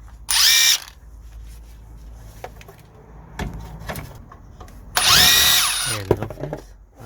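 A power tool whirring in two short, loud bursts while taking a 16mm nut off the rear coil spring of a Peugeot 3008/5008, with metallic clinks and handling noises in between.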